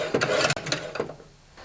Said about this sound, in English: Move the gear shifter back and forth.